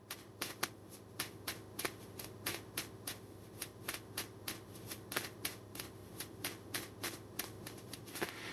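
Tarot cards being shuffled for a reading, a close, quiet run of crisp riffling snaps repeating in quick irregular bursts with no talking.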